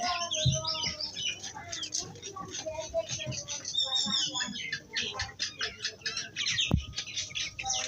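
White and black chickens at a small chicken farm cluck and chirp densely and continuously nearby, with people talking over the flock.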